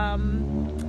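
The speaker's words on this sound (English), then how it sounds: "if you hear like some engines and stuff in the background" Car engines idle in a parking lot, a steady low droning hum that fills the background while a voice talks over it.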